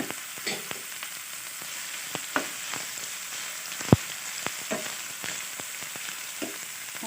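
Lightly boiled chicken pieces frying in a pan, a soft steady sizzle with scattered crackles and a few clinks of a utensil stirring, fairly quiet and free of talk.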